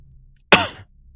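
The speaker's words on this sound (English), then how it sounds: "Sorry for coughing on the mic." A single sharp cough right into a microphone, close, loud and abrupt, fading quickly in an otherwise quiet moment.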